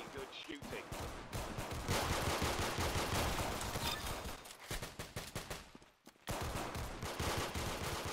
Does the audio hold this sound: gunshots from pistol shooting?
yes